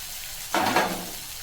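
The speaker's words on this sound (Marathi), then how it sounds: "बारीक केलेला टोमॅट दोडका टाकून घ्यायचा आहे फोडणीसाठी" Chopped tomato and ridge gourd drop into hot oil for a tempering, giving a sudden loud sizzling hiss that swells briefly and then settles to a softer fry, heard alone without talk.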